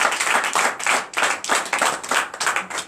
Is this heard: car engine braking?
no